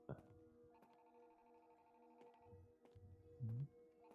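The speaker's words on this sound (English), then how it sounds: "I hear a phone ringing." A telephone rings steadily in the Five Nights at Freddy's game, a repeating electronic tone running through the whole clip at moderate volume, with low game sounds and a brief louder bump near the end.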